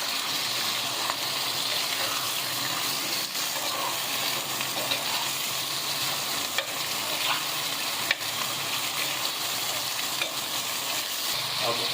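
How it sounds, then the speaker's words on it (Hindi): Mutton liver, kidney and spleen fry on a tawa over high heat, giving a steady, dense sizzle with occasional sharp pops and stirring clicks, moderately loud and continuous without talk. "आँच इसकी तेज़ है और हम इसकी भुनाई कर रहे हैं तेज़ आंच में।"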